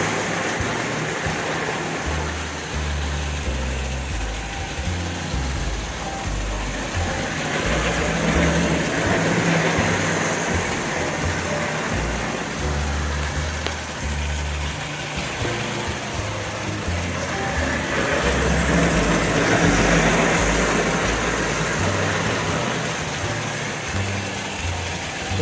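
A 1925 Lionel standard gauge toy train, number 8 engine pulling passenger cars, runs steadily on track with a continuous whirring motor hum and rattling wheels that swell and fade slightly as it circles.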